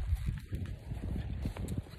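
A ridden horse walks along, its hooves giving a soft, irregular clip-clop close by at low volume with faint background noise.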